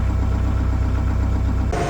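A small tractor's engine runs at a steady, low idle close by, with an even chugging rumble and a slight change in tone just before the end.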